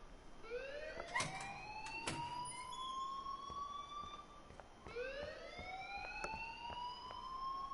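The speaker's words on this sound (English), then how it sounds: "please turn off that alarm since that's your job" A school fire alarm in the game Life is Strange wails in two long rising sweeps, steady and fairly loud, with a few sharp clicks over it and no talking.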